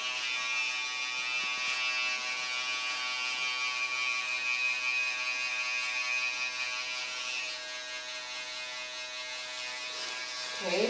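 Electric hair clippers buzz steadily and close up while trimming a boy's neckline during a mohawk haircut, a continuous humming whine that shifts slightly in pitch as the blades move, with a voice talking quietly over it.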